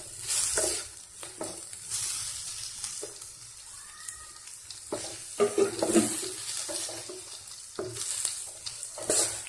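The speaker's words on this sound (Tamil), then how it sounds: "தக்காளி நல்லா வதங்கணுங்க. டூ மினிட்ஸ் நல்லா வதக்கி விடுங்க." Tomatoes sautéing in a pan for a masoor dal curry, an ongoing sizzle with repeated bursts of spatula stirring and scraping, plus a brief faint tonal sound partway through, with no one speaking.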